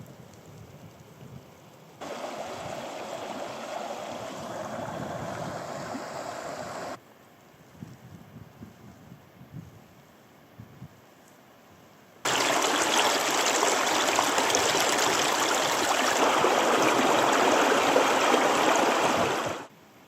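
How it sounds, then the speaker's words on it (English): A mountain burn tumbles through the Poison Glen in Donegal's Derryveagh Mountains, its rushing water heard in two separate stretches, the second nearer and louder, with quieter gaps between. "I'm following the Agannive burn up into the absolutely stunningly beautiful Poison Glen"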